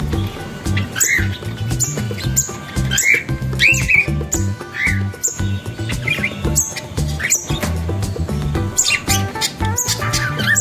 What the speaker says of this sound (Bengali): ছেলে পাখিটা মেয়ে পাখিটাকে ফিটিং করাচ্ছে, তারপরে মেয়ে পাখিটা গিয়ে বাচ্চাগুলোকে ফিটিং করাবে।